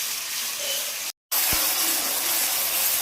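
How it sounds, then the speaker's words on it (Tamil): Ginger garlic paste for a Hogenakkal-style fish curry sautéing in a pan, a steady close hiss and sizzle with a brief dropout partway through. "இஞ்சி பூண்டு பேஸ்ட்டு பச்சை வாசனை போகிற வரைக்கும் நல்லா வதக்கி விட்டுக்கலாம்"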